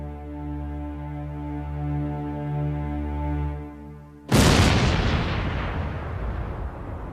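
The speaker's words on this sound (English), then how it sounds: "unveiled a secret weapon: Big Bertha, the world's largest cannon." Big Bertha, the giant German siege cannon of the First World War, firing a one-ton shell: a low steady droning tone gives way to a single massive, close blast with a long rumbling decay.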